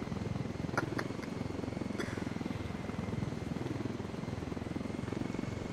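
Helicopter in the military game Ghost Recon Wildlands, a steady, low, pulsing rotor thrum running throughout at moderate volume, with a few faint clicks and no speech.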